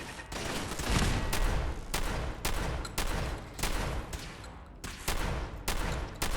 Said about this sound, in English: Let's just activate the turrets.